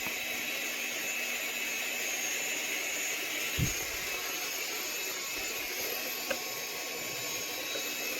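An Elegoo OrangeStorm Giga 3D printer with a clogged nozzle runs with a steady whirring hum of fans and motors, faint and constant, with a single soft thump and a small click along the way.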